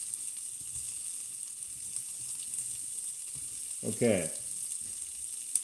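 A steak sizzles in a skillet on the stove, a steady close hiss of frying throughout, briefly interrupted by a short spoken word.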